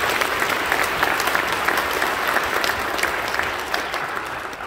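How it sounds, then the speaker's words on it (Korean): A church congregation claps enthusiastically after a praise song at an elders' ordination and deacon appointment service. Sustained, dense applause continues with a few sharper individual claps standing out. "더 뜨겁게 한번 박수 더 해줘요."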